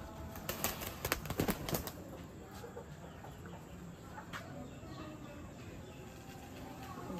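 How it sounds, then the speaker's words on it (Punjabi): A pigeon is set loose from a rooftop in Tarn Taran, Punjab: a quick burst of close wing flaps and flutters in the first two seconds, then quieter outdoor ambience with scattered faint sounds. "ਇਹ ਕਬੂਤਰ ਛੱਡਿਆ ਜੇ ਜਿਹੜਾ ਹੁਣ ਛੱਡਿਆ ਵਾ"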